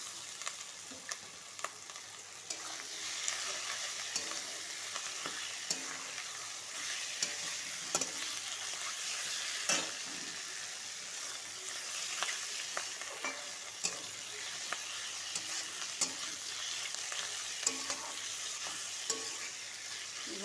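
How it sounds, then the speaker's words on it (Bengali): Onion, tomato and garlic fry in a pan with fat from catla fish, giving a steady close sizzle broken by regular scrape-and-tap strokes of a spatula stirring throughout. "টমেটো পেঁয়াজ রসুন সব ভাজা হয়ে গেছে। এবার দিয়ে দেবো কেটে রাখা তেলগুলো।"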